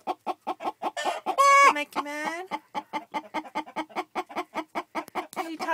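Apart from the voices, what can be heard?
angry hen clucking in her nesting box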